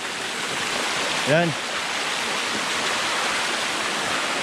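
Water pouring over solid rock at Fikong Falls makes a constant close rushing roar, and someone says a single brief word over it partway through.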